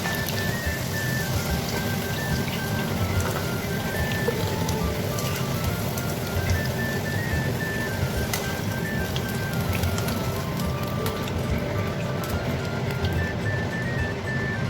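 Potato pieces frying in hot oil for a Bengali jackfruit curry crackle with a dense, steady, rain-like sizzle throughout, close and even, with no voices.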